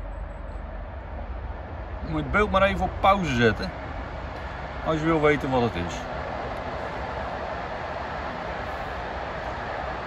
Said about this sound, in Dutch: Wat je hoort is een trein.